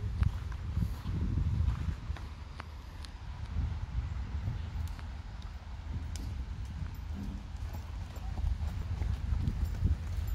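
Horses walk on a hard surface, their hooves clip-clopping steadily and fairly close, with wind noise and some faint talk in the background.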